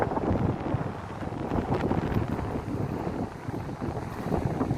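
Strong wind roars steadily across the microphone, a loud continuous buffeting rumble with no voices.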